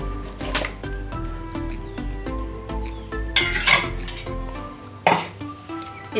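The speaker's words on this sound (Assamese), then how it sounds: "এতিয়া এইখিনি লাহে লাহে ফেটি থাকিম" A metal spoon beats malai (milk cream) in a kadai for homemade ghee, making repeated bright clinks and scrapes against the pan with a slightly uneven rhythm, close and fairly clear.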